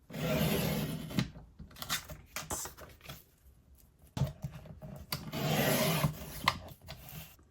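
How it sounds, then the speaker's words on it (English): Cardstock card bases trimmed to 8 by 5 inches on a paper trimmer: repeated close, dry scraping and sliding bursts of varying length, separated by short quiet gaps. "we're going to trim all of these to be 8 inches by 5 inches"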